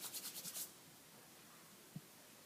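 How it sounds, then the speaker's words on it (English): Hands rub together briskly during a Swedish neck, face and head massage, a short series of about six quick rhythmic swishes up close, followed by quiet. "join hands together noiselessly and vigorously rub hands together."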